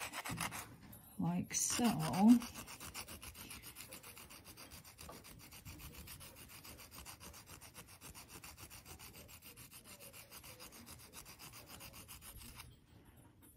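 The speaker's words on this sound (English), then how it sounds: "I'm going to take the Abranet and do the same thing to sand the perimeter" Coarse Abranet mesh sands the perimeter of polymer clay earrings in quick, steady rasping strokes, close and quiet, with a few words spoken early on.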